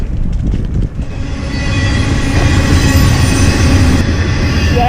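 A train rumbles past close by, wheels rattling on the track with a faint metallic squeal, loud and sustained throughout.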